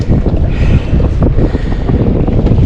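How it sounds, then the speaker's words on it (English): A Coast Guard boat approaching on the open ocean off the Oregon coast, heard from a fishing kayak as a low engine rumble buried under constant heavy wind buffeting, with no talking. "Here comes the Coast Guard,"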